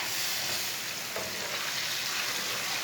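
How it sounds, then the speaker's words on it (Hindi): Chopped tomato, chili and spices fry in a pan for masoor daal, giving a continuous, even sizzle with a faint stir partway through, heard alone at moderate level. "अब इसे 2 मिनट तक भून लेंगे।"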